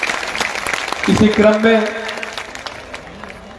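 A crowd at a public gathering claps briefly under a man's speech, the applause mixed with his voice and fading as he carries on talking.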